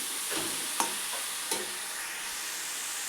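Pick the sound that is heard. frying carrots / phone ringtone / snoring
frying carrots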